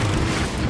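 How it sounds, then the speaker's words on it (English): A frag grenade going off in Warhammer 40K Space Marine II, a short, loud, heavy burst with a deep rumbling low end, filling the whole moment. "Using a frag grenade."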